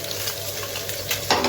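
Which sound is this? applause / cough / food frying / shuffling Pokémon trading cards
food frying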